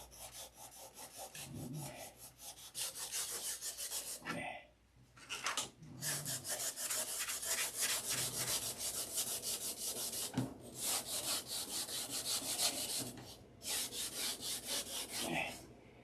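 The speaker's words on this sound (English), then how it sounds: "I could sand it right down to bare wood real easy." Hand sanding of wood, stripping old finish down to bare wood: long rhythmic rasping strokes, close and fairly loud, repeating for several seconds with a few brief pauses between bursts.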